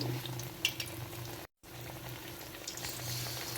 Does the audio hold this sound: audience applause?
no